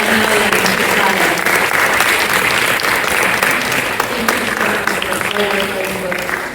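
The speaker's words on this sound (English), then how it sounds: "let's have a round of applause for Nipa, Amelia, and Chisato" A symposium audience gives a loud, sustained round of applause, thick even clapping filling the room from start to finish with faint voices underneath.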